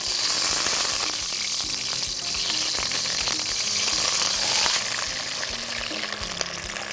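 Onions frying in a small amount of oil in a pan, giving a steady, dense close-up sizzle that holds at an even level throughout with no talking.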